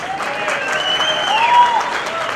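Applause from a crowd for Rio de Janeiro governor Cláudio Castro, steady and sustained throughout at moderate distance, with faint tonal sounds over the clapping.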